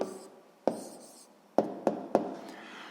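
Pen or chalk writes out a maths answer by hand, giving soft scratchy strokes and a few sharp taps, quiet and close, with faint room noise between marks.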